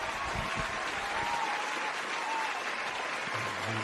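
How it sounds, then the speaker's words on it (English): A live audience applauds in a thick, unbroken roar of clapping hands, loud and even, with a faint low murmur under it near the end. "Got that applause on loop?"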